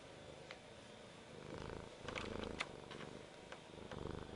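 A cat purrs loudly right against the microphone during a Dota 2 gaming stream, a steady close rumble with occasional bumps and rustles.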